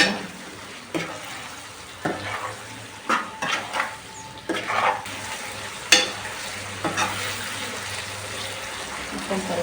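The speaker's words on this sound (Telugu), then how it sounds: "మళ్ళీ మొత్తం ఒకసారి కలిపేద్దాం." Spoon stirring salt and turmeric into a pot of egg and drumstick curry, giving a series of short scraping and clinking strokes against the pot over a low simmering bubble, fairly close, with no voices.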